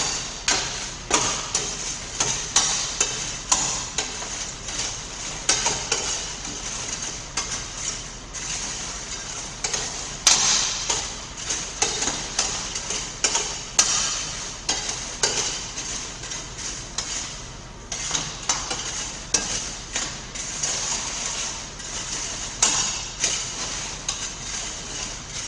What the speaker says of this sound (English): move the popcorn across the holes in the bottom of the pan